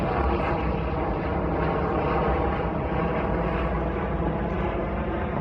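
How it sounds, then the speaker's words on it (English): An air ambulance helicopter passes overhead above a railway station, a steady broad engine and rotor drone that holds at a constant level throughout. "I think it's an air ambulance helicopter."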